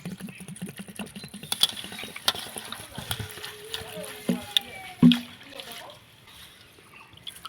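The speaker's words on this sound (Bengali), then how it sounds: "নিম পাতাগুলোকে আমি পরিষ্কার করে ধুয়ে নেবো" Neem leaves are rinsed and swished in water, with splashing, dripping and handling knocks, close by, and a stronger splash near the end.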